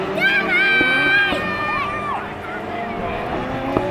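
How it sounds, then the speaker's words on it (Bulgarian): Spectators at a Bulgarian autocross final for Super Buggy cars in Silistra shout and cheer in a steady crowd roar. A clear voice rides on top of it, with engine-like drones rising and falling beneath. "Чува се призивите на публиката зад нас"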